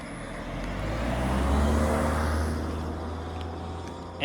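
A car drives past nearby, its broad engine and tyre rumble swelling to a peak around the middle and then fading slowly, with no talking.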